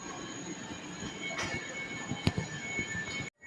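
A Stansted Express Stadler Flirt class 745 train rolls along the West Anglia Main Line with a steady rumble, thin wheel squeal and a few clicks before cutting off abruptly.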